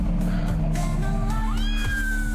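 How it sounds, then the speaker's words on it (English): A cat in an abandoned house in the middle of a forest meows loudly, its cries rising and wavering over about two seconds against a steady low hum, with no talk. "Oh my god, the cat's freaked out."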